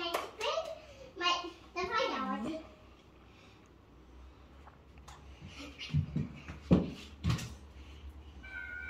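A child claps several sharp, close handclaps indoors at home, following a stretch of the child's chatter and vocal sounds.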